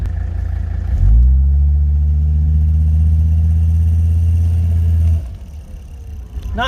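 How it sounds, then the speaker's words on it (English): Mercedes-Benz W123 with an OM617 turbo diesel held on the power brake, its deep rumbling engine surging up at once and holding a loud, steady drone for about four seconds before dropping back, with the turbo spooling under it. "I'm going to see if it spools the turbo any harder on"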